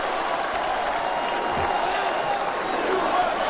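Dense roaring crowd at a political convention, a sustained wall of cheering and collective chanting from a large indoor audience, loud and continuous with no pauses.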